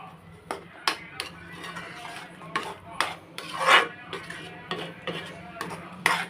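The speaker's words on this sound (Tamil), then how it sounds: "அஞ்சு நிமிஷத்துக்கு ஒரு தடவை கலரிகிட்டே இருக்கணும்" A spoon repeatedly scrapes and clinks against a pan while onion, garlic and chilli thokku is stirred, the irregular metallic knocks over a low background hum.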